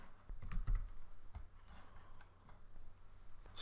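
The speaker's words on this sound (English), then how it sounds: "We'll just type some days of the week in here." Quick bursts of key taps on a computer keyboard as days of the week are typed, close and fairly quiet, with short pauses between the rattling clusters.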